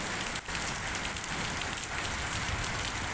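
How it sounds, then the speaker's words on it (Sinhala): Rain falling steadily on surfaces, a continuous close patter and hiss at moderate level with no voices, lasting a few seconds. "මෙහෙම තමයි ඉතින් වැස්ස."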